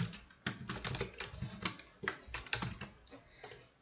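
Typing on a computer keyboard while making a Scratch game: a quick, irregular run of crisp key clicks and taps, close and clear, with short pauses between bursts.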